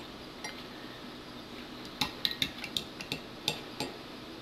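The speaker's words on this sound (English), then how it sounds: "Let me just stir it a little bit." A pH probe stirs a water sample from an M7 water ionizer in a glass, giving a quiet series of light clinks and taps against the container, irregular and close, with no voices.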